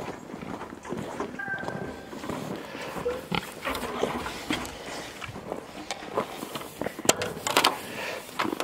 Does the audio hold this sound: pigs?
yes